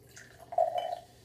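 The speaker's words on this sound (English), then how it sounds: "and we're going to pour some lime here." Jarritos lime soda is poured into a glass, a brief liquid splash and gurgle that rises for about half a second and then fades, faint and alone.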